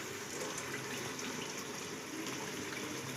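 Goat trotter broth (yakhni) being strained, a steady continuous pour and splash of liquid running through a strainer, fairly close and moderately loud with no talking.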